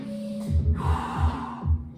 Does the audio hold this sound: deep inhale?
yes